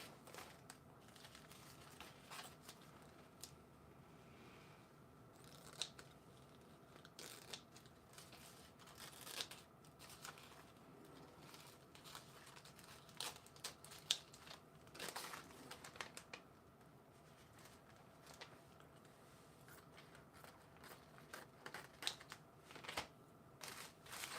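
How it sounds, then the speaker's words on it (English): Snipping and crinkling of paper being cut with scissors, irregular crisp snips scattered over a quiet background, close up. "If I can find my scissors, I can cut some up."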